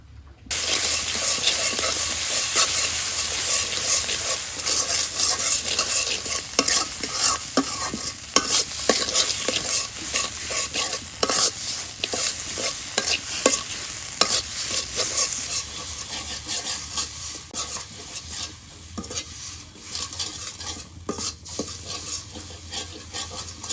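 Ground spice paste of garam masala, ginger, garlic and cumin sizzles and fries in a pan in a village kitchen, with a near, continuous rasping of a spoon stirring and scraping throughout.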